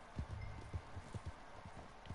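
Horse hooves clip-clop at a steady walking pace in a Wild West video game, with evenly spaced, moderately close hoofbeats over a soft background hum.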